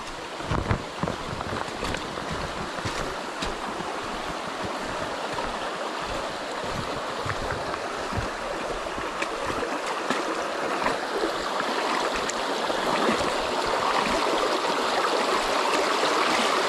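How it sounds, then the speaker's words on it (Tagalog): A shallow stream is crossed on foot over slippery rocks, its clear water rushing in a continuous, close burble, with occasional splashes and knocks from footsteps. "Tawid sapa po tayo."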